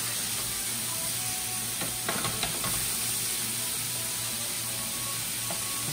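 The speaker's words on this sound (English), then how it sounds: "I have my sauce mixing together" Sauce for a Philly cheesesteak sandwich stirred in a hot pan: steady, continuous sizzling and hissing with a few soft scraping stirs in the middle, close and fairly loud, with no talking.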